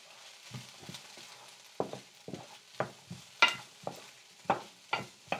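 Food sautéed in a pan without oil, a quiet dry hiss broken by repeated spatula scrapes and taps against the pan, close and intermittent.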